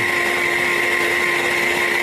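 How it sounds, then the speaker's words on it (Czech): A blender runs at full speed, a loud continuous whirring motor drone with a strong steady high whine and no break across the whole stretch. "Jede ti mixér, tak tě neslyším."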